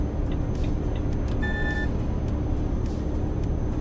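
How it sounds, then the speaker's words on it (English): Lane keep assist warning in Euro Truck Simulator 2 beeps once, a short clear electronic tone sitting over the steady hum of the truck's engine and road noise. "The beeping sound you hear, Zato, is the lane keep assist"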